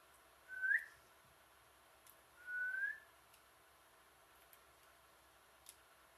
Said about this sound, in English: I can whistle something in.